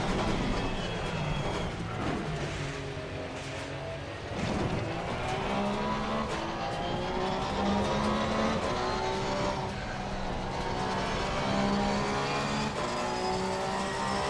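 A race car engine in a sim racing game revs hard and repeatedly bounces off the rev limiter, with rising and falling engine tones that are loud and continuous and carry no talk.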